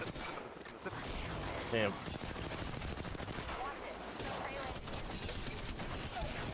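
Dense, continuous gunfire from Apex Legends gameplay runs throughout, loud and busy with bursts overlapping, while a player speaks briefly over the top.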